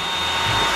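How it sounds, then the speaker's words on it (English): A hair blow dryer runs close by with a steady, loud whooshing hiss and a high whine. "So now I got the blow dryer on my mirrors."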